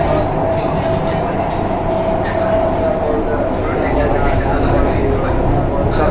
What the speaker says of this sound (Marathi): तर बघू शकता ही मेट्रो मित्रांनो. तरी पुण्याची मेट्रो आहे.